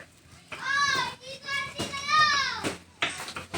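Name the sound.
noisy children playing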